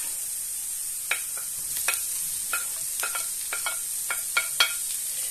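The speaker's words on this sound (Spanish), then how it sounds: "Vamos a echar el pimiento." Chopped red pepper tipped into onions already softening and turning translucent in a frying pan, giving a steady high sizzle broken by several sharp clicks of stirring and the spatula against the pan, close and alone.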